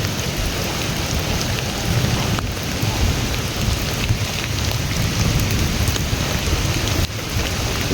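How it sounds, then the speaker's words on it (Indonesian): Steady heavy rain pours down continuously, a dense hiss of drops on surfaces with no voices, loud and close throughout. "soalnya kan lagi hujan ya"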